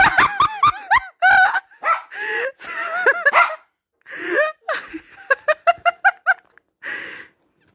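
A dog barks excitedly in quick bursts of sharp, close yips, pausing and starting again, mixed with a person's laughter.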